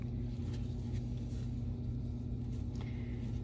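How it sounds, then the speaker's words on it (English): Air conditioner fan rumbling steadily in the background, a constant low drone at a faint, even level with no voices over it. "I don't know if you can hear that rumbling in the background. That is the fan for our air conditioner"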